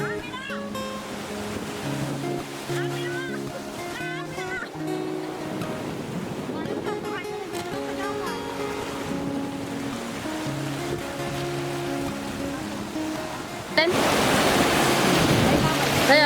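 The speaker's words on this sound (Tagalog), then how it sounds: "na abutan kami ng malalaking alon" Big ocean waves crash and wash along a coastal shore, a steady roar of surf and wind noise that surges louder near the end, with voices talking over it.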